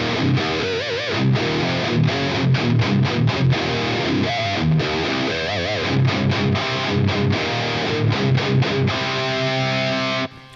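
Electric guitar through a super overdrive pedal and an ISB decimator into a cabinet impulse response, playing a fast, dense, heavily distorted riff with chugging palm-muted bursts and brief gaps, loud and alone before cutting off abruptly.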